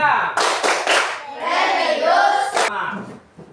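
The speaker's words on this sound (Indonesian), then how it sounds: "1, 2, 3. Tepuk PPK." A classroom of children performs the Tepuk PPK rhythmic clapping chant, sharp patterned bursts of claps interleaved with children's voices chanting together, close and loud.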